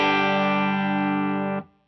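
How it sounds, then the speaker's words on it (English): A clean rhythm electric guitar tone from a pedalboard preset, one sustained chord that rings steadily and loudly on its own, then is cut off sharply near the end. "On my A preset, I always put my clean rhythm sound."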